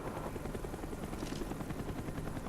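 A military helicopter in the Call of Duty: Black Ops single-player mission The Defector keeps up a steady, close rotor thump and engine roar through the whole stretch, with no talk over it.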